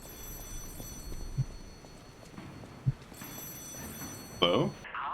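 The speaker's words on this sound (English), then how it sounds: "The phone." A telephone rings in the video game Lies of P, a faint repeated ring heard beneath game sounds, with a player talking over it.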